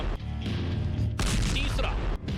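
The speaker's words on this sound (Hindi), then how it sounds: "फिर वो रूस की बख्तरबंद गाड़ी के ऊपर पहुंचकर उनको ड्रॉप करने लगा। पहला बम, दूसरा बम," Small bombs dropped by a drone burst on a Russian armoured vehicle. Two sharp, loud blasts come about a second apart, each followed by a noisy rush, with a narrator speaking over them.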